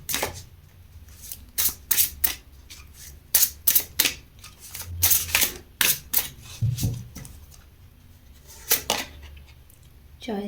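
Tarot cards being shuffled, a close run of quick crisp flicks and slaps in irregular bursts, separated by short quieter pauses.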